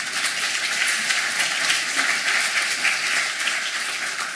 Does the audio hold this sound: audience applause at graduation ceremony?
yes